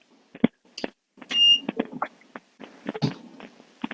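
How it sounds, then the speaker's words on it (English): Electronic device giving a short high beep when its button is pressed, one brief tone amid clicks, taps and soft handling noise in a room. "when you change it, it beeps"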